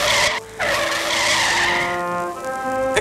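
Truck tires skid loudly to a stop on a street in a superhero story, a harsh sustained screech that bends into rising squealing tones before cutting off.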